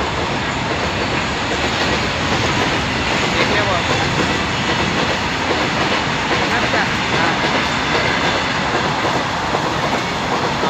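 A train runs through Nardana railway station, a loud continuous rumble and rattle of wheels with clickety-clack on the rails, heard close up alongside faint voices.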